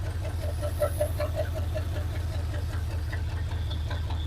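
A 1980 Chevrolet C/10 Square Body Cheyenne truck engine idles steadily up close, a continuous low rumble with a faint rhythmic ticking on top and no heavy knock.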